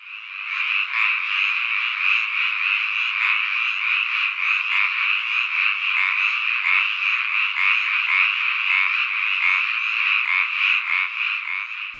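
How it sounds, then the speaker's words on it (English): Frogs croak in a rice paddy in Japan, a dense, continuous chorus of rapid, pulsing calls that stays loud and close throughout with no other sounds. "my next sound, I'm taking it back outside with some frogs, and these little guys are in a rice paddy"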